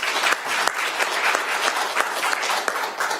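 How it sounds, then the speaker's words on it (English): Applause fills a council meeting room, a dense, steady round of clapping from many people, loud and close throughout. "I want to give you a round of applause"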